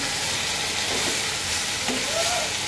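Vegetable curry with boiled soybeans sizzles steadily in a frying pan, a continuous close frying hiss with faint scraping from stirring.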